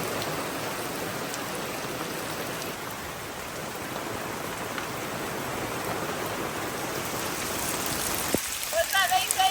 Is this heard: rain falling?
yes